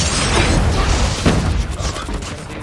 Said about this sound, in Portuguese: Ah, muita granada.